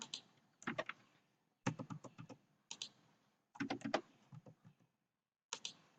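Values being typed into an Excel spreadsheet on a computer keyboard, quick bursts of sharp key clicks separated by short pauses, close and clear, no talking.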